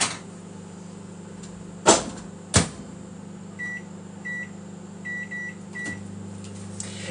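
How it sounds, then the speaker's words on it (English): A microwave oven hums steadily in a kitchen while cooking a pizza, with two sharp clunks early on and a series of short electronic beeps near the end. "I'm going to pop it in my other microwave oven for 5 or 6 minutes."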